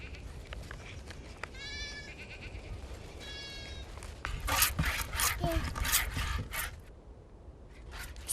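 Goats tethered together on a Mongolian desert steppe bleat in short repeated calls, followed by a stretch of louder scraping, rustling and handling noises close by, with voices in the background.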